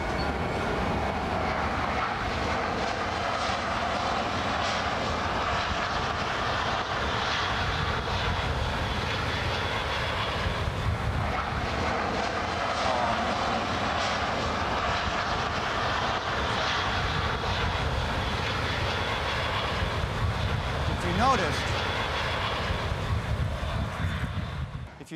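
Passenger airplane from Barcelona coming in to land at Heathrow, a steady, loud broadband jet roar that holds for the whole stretch with slight swells, close and unbroken.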